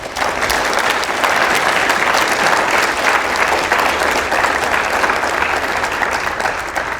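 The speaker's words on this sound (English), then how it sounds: "How about we give them a warm applause?" Sustained audience applause for a conference panel, a dense wash of many hands clapping steadily for about seven seconds with no talking.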